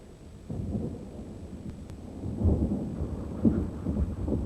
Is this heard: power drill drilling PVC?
no